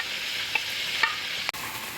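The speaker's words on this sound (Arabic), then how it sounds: "هنا الزيت معانا سخن، هننزل بالبصله بتاعتنا متقطعه جوانح زي كده" Sliced onion wedges frying in hot oil in a pan, giving a steady, even sizzle with a few soft clicks and one sharper tap near the end, close and with no voices.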